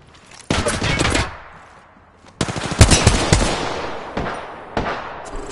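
Automatic gunfire in Apex Legends season 6 rips out in two loud, close bursts, followed by a few scattered single shots fading into the background.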